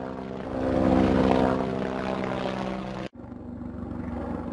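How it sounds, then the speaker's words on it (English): Loud, steady helicopter engine and rotor drone, close by, with a brief abrupt dropout partway before the roar resumes. "I am a helicopter. I fly in the sky."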